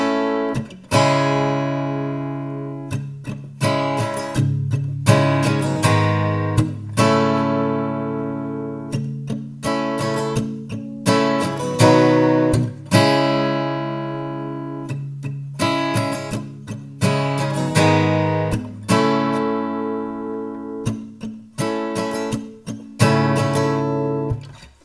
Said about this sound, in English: you're just going to follow that same strumming pattern for all four lines of the chorus